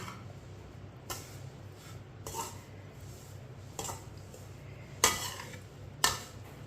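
A spoon stirs coconut flakes and sugar in a pan, soft scraping under a low background hum, punctuated by several distinct clinks, the last two sharper and louder.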